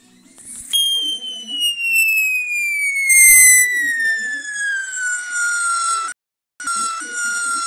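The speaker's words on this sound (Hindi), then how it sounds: "तो अभी हम पहला पटाखा फोड़ते हैं, तो अभी देखते हैं वो क्या फूटता है" A Diwali firecracker goes off with a loud, piercing whistle that slides steadily downward in pitch for several seconds, cuts out briefly and then resumes, with faint voices underneath.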